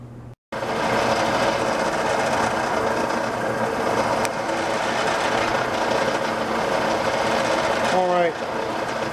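A metal lathe at about 1,500 RPM cutting with a diamond tool holder gives a steady, loud mechanical whir and hum that runs almost continuously and ends with a falling spin-down tone. A brief dropout comes near the start.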